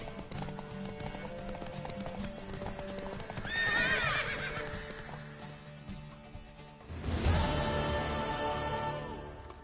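A horse gallops and neighs in the video game Witcher 3: steady clip-clopping hooves, a loud whinny near four seconds, then a second sharp burst of neighing and hoofbeats near seven seconds, with no voices.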